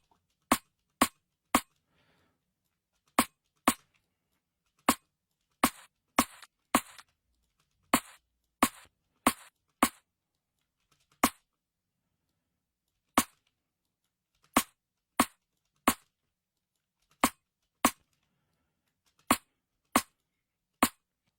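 Synthesized snare drum layers made in the Phase 4 synth play as sharp, short, high-passed hits, about two dozen in an irregular, sparse pattern with brief flurries, separated by silence.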